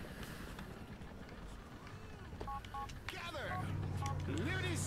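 Phone dialing in the video game GTA IV gives short electronic DTMF-style beeps at moderate volume, heard over ambient game noise, with a voice also speaking.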